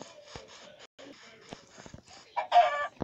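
A Minecraft chicken clucks and squawks in short bursts, with a louder flurry of clucking near the end, alongside faint background chatter.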